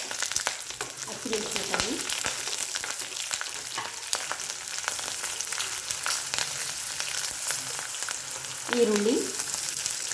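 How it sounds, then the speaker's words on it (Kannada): Dried red chillies, green chillies and onion fry in a pan for methi huli rice, with a steady close sizzle and clicks of stirring, while a voice speaks briefly over it. "ಒಣಮೆಣಸಿನ್ಕಾಯಿ ಹಾಕ್ತಿದ್ದೀನಿ,"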